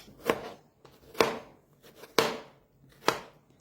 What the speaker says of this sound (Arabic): همسك كل البطاطسايه واقطعها صوابع طويلة محملة